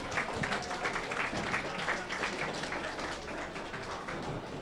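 Spectators at a submission-only judo event in Sin City applaud the competitors after a match, a steady wash of clapping that stays even for several seconds.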